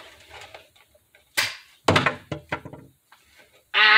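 Foam dart fired from a Nerf gun indoors, giving a quick sharp shot followed by a dull thud on impact, then a few softer knocks and rustles, ending in a loud burst of noise.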